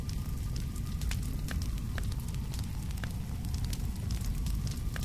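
A fire burns with a steady, soft crackle and roar, faint sparse pops over a continuous low rush, with no voices.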